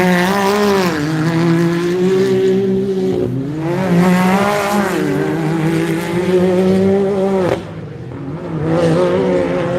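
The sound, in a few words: race car (Bentley) taking a left-hand hairpin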